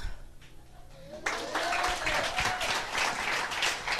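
An audience at a seminar bursts into dense, continuous clapping partway through, after a quieter stretch. The applause stays even and fairly close, with a faint tone sliding underneath.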